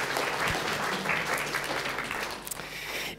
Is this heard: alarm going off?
no